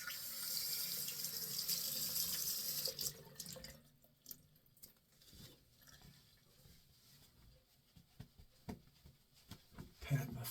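A bathroom tap runs steadily into a sink as a face is rinsed after a shave, a soft hiss that stops after about three seconds and gives way to quieter splashes and drips.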